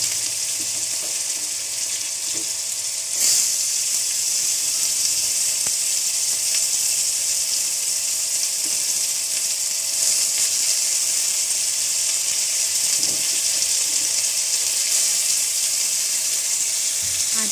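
Chopped onions sizzle in hot oil in a kadai, giving a loud, steady, hissing fry that continues unbroken throughout, with occasional faint clinks of utensils.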